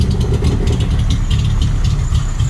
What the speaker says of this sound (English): that's a new exhaust system